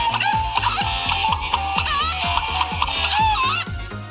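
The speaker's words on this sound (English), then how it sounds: "If we just listen to our chickens that just go." Chickens cluck in a rapid, rhythmic series of short calls with rising and falling pitch, fairly loud and close, over a steady layered background.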